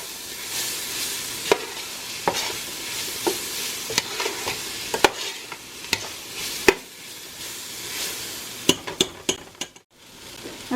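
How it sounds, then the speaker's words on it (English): Onion soup mix seasonings cook in a pot over lowered heat, a soft steady sizzle broken by sharp metallic taps and scrapes of a utensil against the pot. "I'm just going to let the seasonings cook for like 1 minute"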